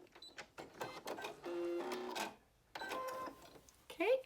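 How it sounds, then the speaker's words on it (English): A sewing machine back stitches on a fabric hair scrunchie in short mechanical bursts, alternating forward and reverse runs with brief pauses, close and moderately loud. "I'm going to go ahead and do a little back stitch there"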